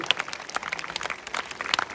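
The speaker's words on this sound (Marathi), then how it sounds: "एकदा जोरदार टाळ्या वाजून आपण या कलाकारांचं कौतुक केलं पाहिजे." Applause from a drama audience greeting the cast of a historical village play, a steady patter of many hands clapping at moderate distance across the whole moment, with no voices.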